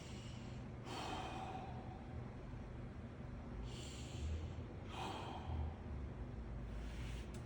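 Slow, deep breaths during a 90/90 hip stretch, with a few soft audible exhales spaced several seconds apart, close but faint over a low background hum.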